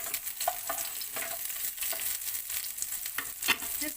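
Onion frying in a pan for Goan fish curry, a steady soft sizzle with faint scrapes of stirring, moderately close and without talk.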